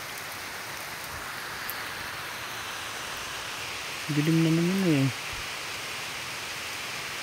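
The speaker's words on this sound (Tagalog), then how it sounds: "Walang tigil ng ulan dito sa amin." Steady rain falling on a roof makes an even, soft hiss throughout, briefly joined by a short spoken phrase partway through.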